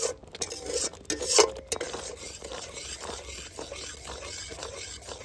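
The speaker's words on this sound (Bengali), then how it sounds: "এবারে এইভাবে একটু নেড়ে নিলাম।" Homemade soy and tomato sauce stirred in a pan, with a spoon scraping and clinking against the metal in a few sharp strokes early on. Softer, low bubbling and shuffling follows, close up, with no talk.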